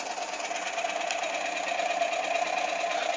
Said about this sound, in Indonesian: kecepatan motor adalah konstan karena belum terbeban